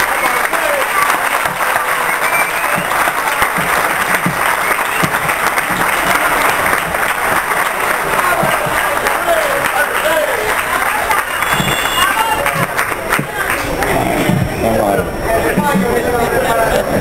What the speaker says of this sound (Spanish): os pido a todos un fuerte aplauso para él y evidentemente para todos los vecinos